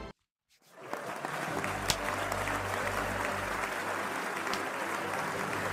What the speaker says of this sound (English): Let's get a clap. Let's get a clap. Hold on. Where the clap? Where the clap at?